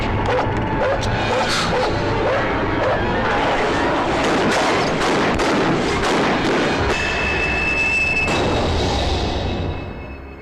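Dense, loud gunfire from a Malayalam action film, rapid bursts of shots and impacts packed tightly together over a rumbling mix, fading out at the very end.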